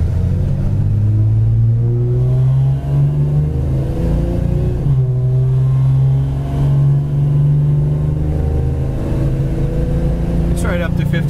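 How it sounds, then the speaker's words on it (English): A 1975 Dodge Dart Sport's Slant 6 engine drones loud and close from inside the moving car, a steady, humming rumble that holds its pitch as the car cruises. "this Slant 6 isn't a powerhouse, but it sounds kind of cool."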